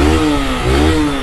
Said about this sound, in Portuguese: Dá pra ouvir, tipo, pelo som da moto, assim, dá pra ver que o motor dela tá lisinho